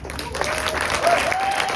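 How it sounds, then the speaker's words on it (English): An audience applauds graduates at a 2025 graduation ceremony, with steady, dense clapping from a large crowd that carries through the whole moment. "A huge round of applause to our graduates."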